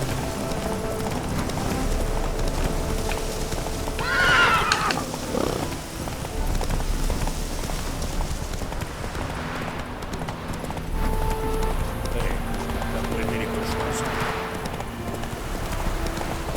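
Horse hooves gallop in The Witcher 3: Wild Hunt, a steady loud clip-clop rhythm running throughout, with a brief whinny-like burst near the start and game ambience underneath.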